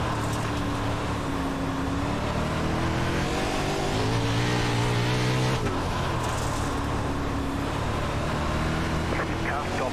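Sprint cars accelerate together at the green flag on the dirt oval of Lanier National Speedway in the iRacing Dirt video game. The engines roar continuously and loudly, their pitch climbing as the field speeds away, with a commentator talking over them.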